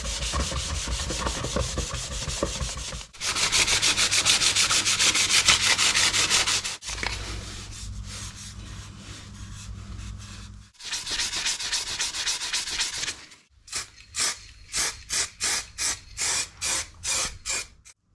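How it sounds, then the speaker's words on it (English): A light plastic car wing mirror on a high-spec E60 BMW being hand-sanded to strip its lacquer, with steady rasping strokes that come in long sustained passes at first and then shift to short, quick, evenly spaced rubs, close and fairly loud. "I can't actually use a sander,"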